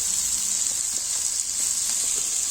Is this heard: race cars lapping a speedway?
no